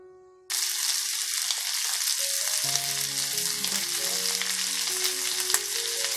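Masala-coated prawns hitting a hot barbecue, a sudden loud burst of dense sizzling after a brief quiet moment, then a steady close crackle with faint tonal hums underneath.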